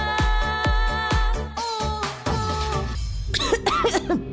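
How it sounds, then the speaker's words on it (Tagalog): A person coughs hard several times in quick succession, loud and close, then a few strained throat-clearing sounds follow, ending with a brief vocal jingle-like sound, all in a cough medicine advertisement setting. "Ubo, plemang nakabara, hirap sa paghinga."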